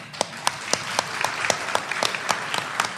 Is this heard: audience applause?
yes